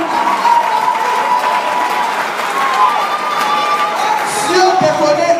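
A worship gathering breaks into loud applause and cheering praising God, a dense sustained crowd roar with clapping and whoops, close and continuous, with voices shouting over it.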